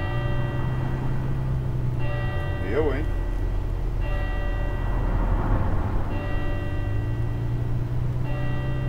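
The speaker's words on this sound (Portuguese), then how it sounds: "Que barulho de sino agora?" A bell rings in repeated, evenly spaced tolls over a low coach engine drone in the video game Fernbus Coach Simulator, with a voice briefly speaking between the rings.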